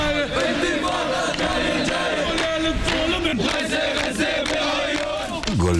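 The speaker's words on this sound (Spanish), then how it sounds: "Golpean las palmas y al ritmo dicen: golpear, golpear Tel Aviv" A crowd of protesters in Gaza claps and chants together in a steady rhythm, loud and close, with massed voices filling the whole stretch.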